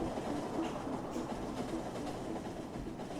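Trains run continuously in the video game Factorio, a steady rumbling rail noise with faint clacking, moderately quiet and alone throughout.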